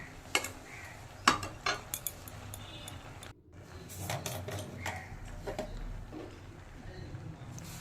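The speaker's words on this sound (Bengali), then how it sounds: "সমস্ত সবজিগুলো ঢেলে দিয়ে ভালো করে মিশিয়ে নেব" Spoon stirring mixed vegetables (aubergine, potato, carrot and a little beetroot) in a pan while cooking spinach stalk charchari: scattered clinks and scrapes of utensil on metal over a low sizzling bed, close and moderate in level.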